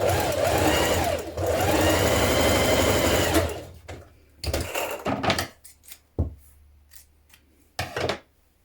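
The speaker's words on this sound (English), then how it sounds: "Now stitch your skirt ruffle sections together." Sewing machine stitching dress skirt ruffle sections together, running in a long steady burst, then several short start-stop runs separated by quiet pauses, close and alone.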